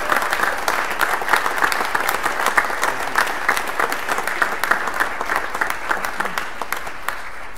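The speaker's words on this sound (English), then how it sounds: "let's give a round of applause to our new" A church congregation applauds steadily to welcome new members, with dense, even clapping from many hands that continues at a constant, fairly close level throughout.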